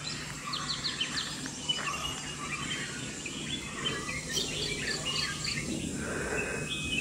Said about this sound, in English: The golden-fronted beakbird, scientifically known as Chloropsis oriflorus, is a vibrant and colorful bird species found in parts of South and Southeast Asia.